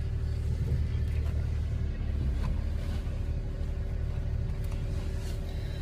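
An old Wagon R car that had sat parked for many days idles with its engine running, a steady low rumble with faint mechanical ticks throughout.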